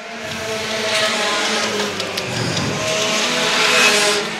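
Pure stock race cars roar around a speedway during a heat race, a sustained loud engine drone with rising and falling pitch as several cars pass in a close pack.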